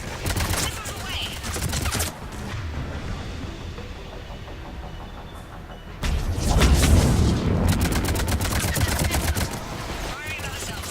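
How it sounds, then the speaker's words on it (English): Missile salvo launching in Mass Effect 3, heavy booming launches and rapid-fire bursts rolling in two loud waves, the second stronger, with battle noise filling the gaps and voices calling out among the blasts. "Missiles away."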